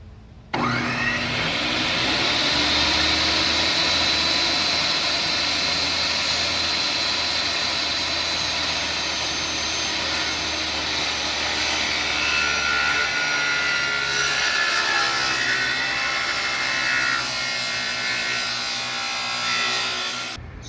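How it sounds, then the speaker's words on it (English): A power saw with a new blade cuts wood for rebuilding a park bench, a loud continuous whining roar that holds steady for about twenty seconds before stopping, close to the microphone. "so we're ready to cut some wood."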